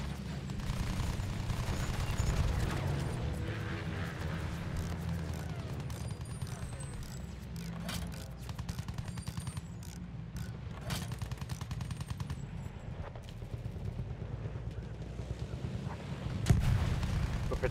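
Sustained gunfire and explosions from a Battlefield 1 battle roll on throughout, a dense, continuous barrage of shots and booms with no clear pauses.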